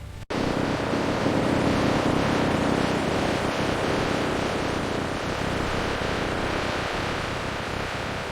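Medjool dates pour into a large 250,000 lb processing system at a date factory, making a dense, continuous rushing clatter that is loud and close, starting abruptly and holding steady with no talking.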